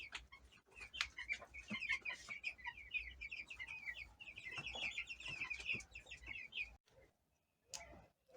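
Chicks peep continuously in a busy, high-pitched chorus, close by, with a few scattered thumps and clicks in a quiet room.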